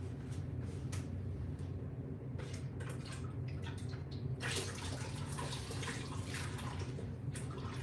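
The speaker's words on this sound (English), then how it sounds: "So I'm gonna see if I can just rinse it with water to get a clean print." Water runs steadily over a marbled print being rinsed clean, a continuous close splashing wash with a few brief drips and louder spurts partway through.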